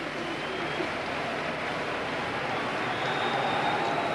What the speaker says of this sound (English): Generous applause for an intelligent free kick.